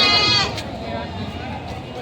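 A goat at a livestock market in Padre Garcia, Batangas lets out a short, loud bleat at the start, followed by nearby voices and background chatter.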